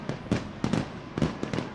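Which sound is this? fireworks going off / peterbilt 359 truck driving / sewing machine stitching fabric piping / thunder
fireworks going off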